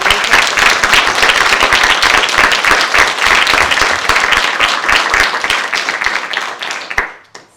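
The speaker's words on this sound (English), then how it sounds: "I'd like to give a big thank you and a round of applause to Chand" Audience applause fills a Scottish Parliament roundtable room, dense steady clapping from many hands held at an even level before thinning out and stopping with a last few claps.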